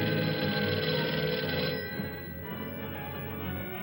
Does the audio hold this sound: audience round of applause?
no